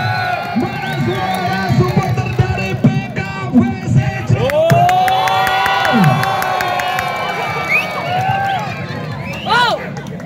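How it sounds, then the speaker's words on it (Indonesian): A crowd cheers and shouts in a sports hall at a volleyball grand final, loud overlapping voices, whoops and chanting with an amplified announcer-style voice over the top. "Kita sambut dengan tepukan yang meriah"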